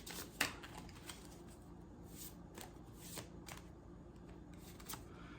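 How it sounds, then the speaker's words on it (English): Cards from a Tarot Grand Lux deck shuffle and slide as one card is drawn, giving soft papery swishes with a sharp snap near the start, faint and close in a quiet room. "I want to pull out from the Tarot Grand Lux deck a clarifier card on this"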